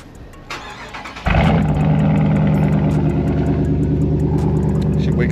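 A Dodge Charger with a 345 engine cranks and fires up, then settles into a loud, steady, deep idle rumble that holds close to the mic after a quieter lead-in.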